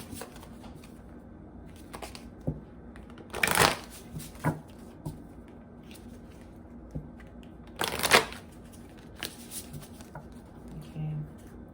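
Two bursts of card shuffling from a Believe in Your Own Magic oracle deck, each lasting about a second, with faint handling taps between them and a quiet steady hum underneath.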